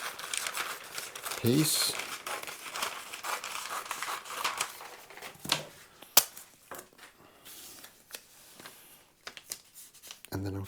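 Scissors cut a piece of tracing paper from a roll, with crinkling, rustling handling of the sheet and a few sharp snips, while someone talks intermittently.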